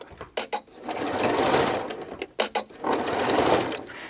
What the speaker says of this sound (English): My machine is being a little finicky. It's time to change my needle of my sewing machine.